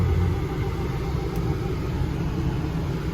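A Range Rover Evoque's engine runs steadily at close range, a dense low rumble that holds constant with no clear change as it is put into reverse.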